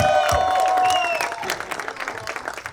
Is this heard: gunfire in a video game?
no